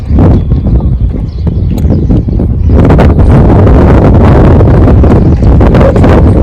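A mare moves close by outdoors, her hooves thudding loudly amid heavy wind buffeting on the microphone, the sound turning dense and rough after the first few seconds.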